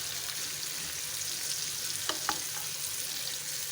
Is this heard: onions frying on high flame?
yes